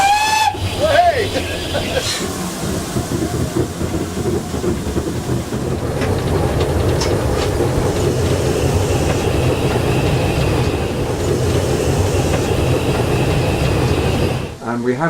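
A steam locomotive on the Bodmin & Wenford Railway in Cornwall gives a short whistle, then works hard up a steep gradient with a steady chuffing, hissing rumble that carries on under people talking nearby.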